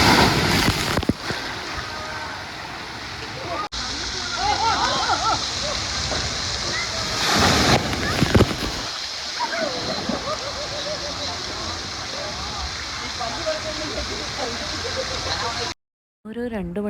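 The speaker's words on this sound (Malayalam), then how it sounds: "നല്ല സൂപ്പർ വെള്ളം ചീറ്റിച്ച് നമ്മുടെ ദേഹത്തേക്ക് വീഴും." Water sprays down hard and continuously at a rain dance in a water theme park, a loud steady hiss and splash with voices talking over it.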